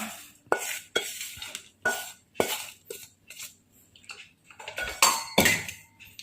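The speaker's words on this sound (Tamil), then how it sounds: "ஜாதிக்காயை வந்து நம்ம நல்லாவே தூள் பண்ணிட்டோம்" Ghee-fried nutmeg is ground into powder, giving a close series of sharp, rhythmic pounding and scraping knocks, roughly two per second, each decaying quickly, with no talking.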